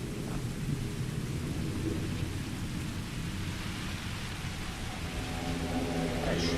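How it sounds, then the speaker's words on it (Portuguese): Steady rain pours with low rumbling thunder in the sci-fi video game Starfield, a continuous dense hiss with no voices over it. "Primeira vez que eu vejo chovendo no jogo."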